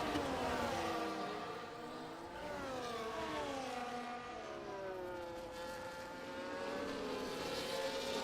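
Formula 1 cars in the F1 24 racing game at a Portugal round, several engines whining at high pitch with rising and falling tones as they shift and pass, a steady dense roar throughout.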